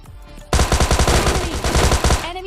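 Tommy gun fire in PUBG Mobile Lite: a sudden, loud, rapid automatic burst of evenly spaced shots lasting about two seconds, close up and without talk.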